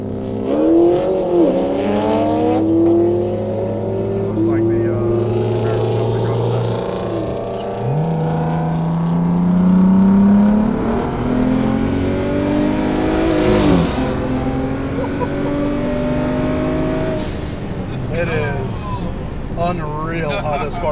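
Cars, one of them a Subaru, race past with loud revving engines whose pitch rises and falls as they accelerate, while people talk over the noise.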